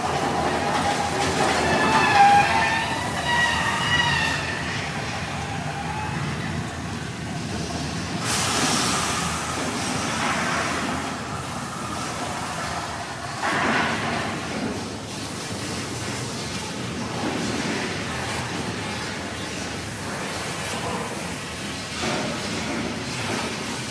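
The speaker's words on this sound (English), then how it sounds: "we got a train coming on the opposite track" A train approaches on the opposite track on a studio tour, rumbling along with a steady roar and hiss that swells and shifts, mechanical noise continuing throughout.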